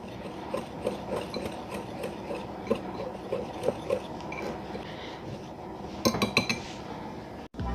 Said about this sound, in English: And I'm going to give this a nice whisk.